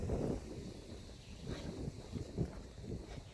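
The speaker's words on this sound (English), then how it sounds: "I know that wind's probably making a horrible sound." Gusty wind on a mountain ridge along the Appalachian Trail in Virginia buffets the microphone in low, rumbling bursts, steady and rough with no other sounds standing out.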